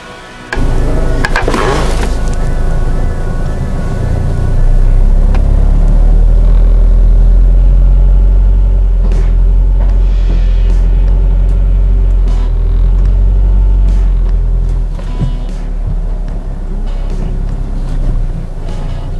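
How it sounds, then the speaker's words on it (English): A Ford Focus engine rumbles loudly and close up as the car is driven slowly up onto ramps for an oil change, with a deep, steady low drone and a few faint knocks and clicks. "We're going to go ahead and pull the vehicle up onto the ramps."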